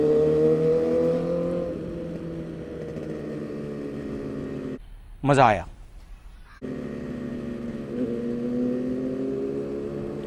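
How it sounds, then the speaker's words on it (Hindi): Loud, continuous motorcycle exhaust roar from bikes fitted with full-system exhausts, including a Kawasaki Ninja 1000 and ZX-10R, rising and falling in pitch with a sharp sweep partway through, while someone talks over it. "सब बाइक्स में फुल सिस्टम एग्जॉस्ट लगा था. The roar."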